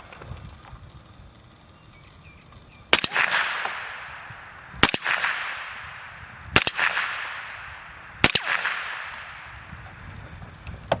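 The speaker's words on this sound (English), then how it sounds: "we're going to give it its fair shot and see what it'll do against the fire hydrant" Four sharp .300 Blackout rifle shots firing 185-grain TTSX bullets slam into a fire hydrant, each a loud cracking impact with a ringing metallic clang that decays over about a second, spaced roughly two seconds apart.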